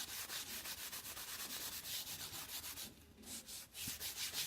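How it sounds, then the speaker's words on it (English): Wax rubbed over a canvas surface by hand gives a steady, close scrubbing sound in rapid back-and-forth strokes, with a brief pause near the end before the rubbing resumes. "you rub it all over your surface"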